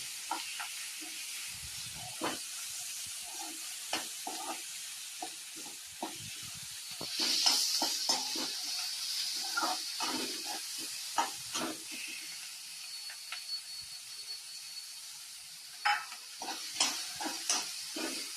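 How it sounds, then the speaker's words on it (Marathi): Onion sautéing with browned garlic in a pan for kurdai bhaji, a low hiss broken by repeated spatula scrapes and taps, with a brief louder burst of sizzle midway. "आता कांदा छान परतवून घेऊ."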